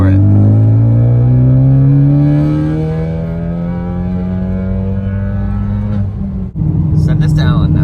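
A Ford Focus ST running E30 fuel accelerates at full throttle on a freeway, its engine tone rising steadily as it revs up from inside the cabin, then dropping briefly at a gear change before pulling again, loud and close.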